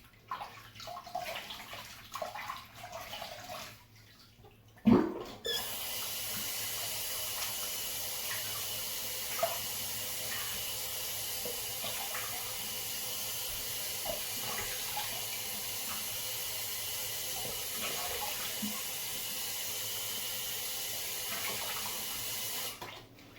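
Water runs from a tap into a sink for rinsing, a steady hiss of flowing water that starts abruptly after a few seconds of quiet clatter and continues evenly until it shuts off near the end.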